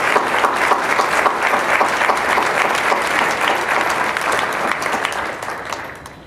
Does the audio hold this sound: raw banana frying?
no